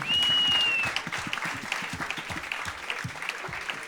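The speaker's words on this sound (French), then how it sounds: "on les applaudit, s'il vous plaît." An audience breaks into applause after a group countdown, steady clapping that continues throughout, with a brief tonal whistle at the start.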